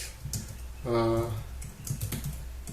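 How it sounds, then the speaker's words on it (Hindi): Uneven, close clicking of typing on a new Logitech K380 wireless multi-device keyboard, steady keystrokes throughout with a brief spoken word in the middle. "मेरी टाइपिंग अभी थोड़ी गड़बड़ चल रही है क्योंकि मेरे लिए कीबोर्ड बिल्कुल एक नया कीबोर्ड है।"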